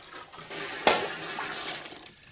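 Potatoes swished and swirled around in a container of cold water for rinsing, a sloshing watery churn with one sharper splash, fairly close and without talk.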